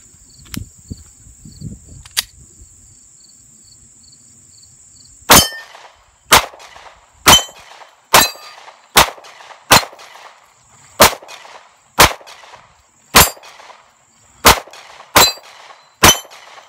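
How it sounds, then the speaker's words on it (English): Pistol shots from a Glock fed from Magpul magazines with Winchester steel-case ammunition: a run of about a dozen sharp, loud cracks spaced roughly a second apart, each with a short ringing tail, after a quieter lead-in with a couple of faint clicks. "we're gonna shoot Winchester steel case ammo through the mags and see how those goes"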